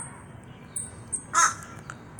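A crow caws loudly and close once in a short burst, with fainter calls around it against a quiet outdoor background, while a man rants angrily at the bird.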